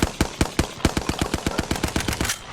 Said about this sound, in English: I'm going to be going over the Hemlock, and it has two modes, the burst fire and the single fire